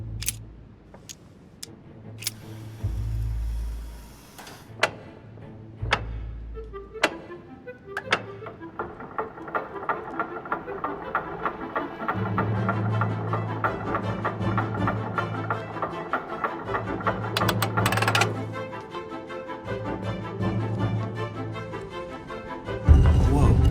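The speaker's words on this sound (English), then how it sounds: "I'll have to make an angle of 90 degrees between the lantern and the Medusa by turning this shield to face the sword" A shield mechanism turns in the video game The Council: a series of sharp thunks and ticking clicks, then a sustained grinding, rumbling whir with steady mechanical clatter that builds, all fairly loud and close.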